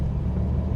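The V6 engine of a Ford Capri 280 Brooklands pulls from low revs with a deep, steady, droning rumble, close and continuous through a brief moment.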